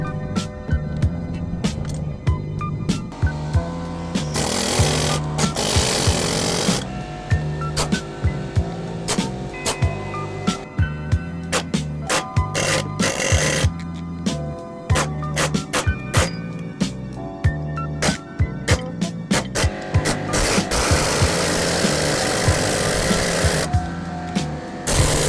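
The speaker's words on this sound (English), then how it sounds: "Today we're going to see if this air hammer is good for blacksmithing." A handheld pneumatic air hammer forging metal for blacksmithing rattles in loud, close bursts of rapid pounding, separated by short pauses and a throbbing hum.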